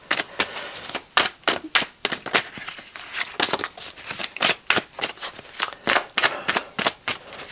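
Tarot cards being shuffled by hand, a series of quick crisp riffling and tapping bursts in an uneven rhythm, close by, with no speech.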